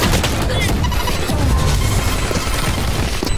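Explosions and rapid gunfire crackle densely through a Valorant round, a steady loud barrage of shots and blasts with a voice shouting over it.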